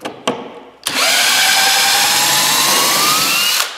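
A power drill spins up to remove bolts from a pergola crate, a couple of clicks then a loud, steady high whine lasting about three seconds before cutting off.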